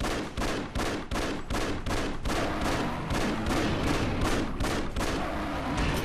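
Steady rapid gunfire in the video game Afterfall: Insanity, a loud close string of evenly spaced shots, roughly two or three per second, continuing through the whole stretch without pause.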